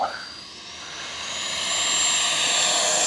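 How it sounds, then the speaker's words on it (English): FMS Avanti S V3 70mm EDF model jet spooling up for takeoff on a 6S setup at full throttle, a rising high-pitched ducted-fan whine that grows steadily louder. "We're gonna take off from this end of the runway, and we will be starting right now."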